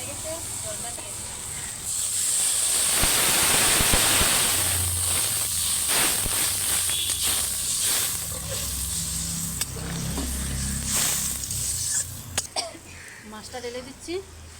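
Water poured onto a ginger and mustard spice paste frying in a pan for rohu fish curry, giving a loud, broad sizzling hiss that surges and then settles into a continuing crackly bubbling.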